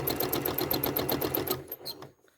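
A sewing machine stitches serpentine quilting lines in a fast, even chatter up close, then slows and stops near the end.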